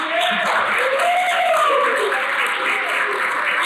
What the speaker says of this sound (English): Can we give it a big round of applause, please?